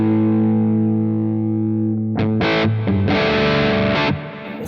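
Electric guitar run through a Quad Cortex filter effect, a sustained distorted chord that gives way to several choppy, swelling strums with a sweeping filtered tone, loud and alone with no talking.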